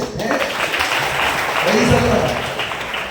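An audience claps together at a church gathering honouring a police inspector, a broad, steady patter of hands that runs throughout while a voice speaks over it.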